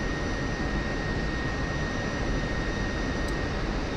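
Steady, broad jet engine roar from an F-16C taxiing in DCS World, a continuous unbroken rumble with a faint high whine, loud and constant throughout.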